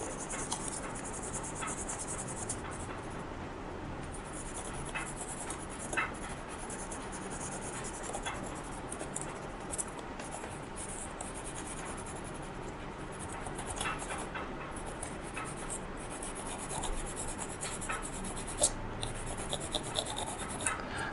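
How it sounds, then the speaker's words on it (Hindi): A pencil tip rubbed back and forth over paper laid on a 5-rupee coin, a faint, close, continuous scratchy scraping that persists throughout with small irregular strokes. "ये आपकी टिप है ना पेंसिल की, इससे रब करना है।"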